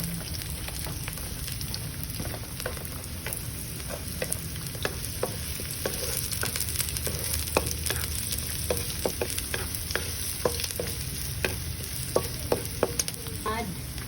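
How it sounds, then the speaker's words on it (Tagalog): Garlic and onions sautéing in a pan, a loud continuous crackling sizzle with repeated sharp stirring clicks and scrapes close by, no talking. "we're gonna saute the garlic. And then the onions."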